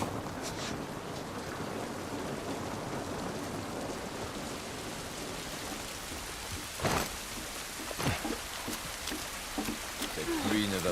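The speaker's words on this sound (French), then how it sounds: "Cette pluie ne va pas nous aider." Rain falls steadily in The Last of Us Part I, a dense, even patter close by, with occasional louder knocks and thumps toward the end and speech in the background.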